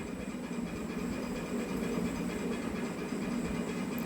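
Lentils and chopped banana flower simmer in a pan of boiling water, giving a steady, dense bubbling hiss at close range, unbroken and alone for a few seconds.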